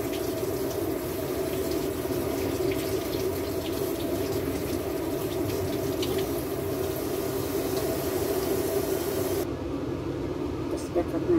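Tap water runs steadily into a sink while something is washed, a constant broadband rush with faint voices nearby, then thinning slightly near the end.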